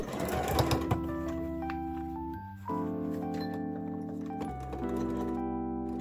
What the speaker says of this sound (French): je me lance dans la couture de la partie visible de mon corset